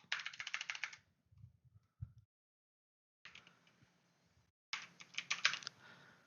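Keys clatter on a computer keyboard in quick bursts of typing separated by short pauses, quiet and close, with no talking.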